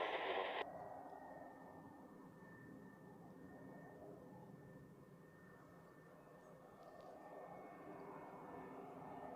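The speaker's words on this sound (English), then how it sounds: "an A320 in the new livery, I think" Swiss Airbus A320 in new livery landing on runway 14 at Zurich Airport, a distant steady jet engine roar that holds and swells slightly toward the end, faint and continuous with a brief radio burst at the start.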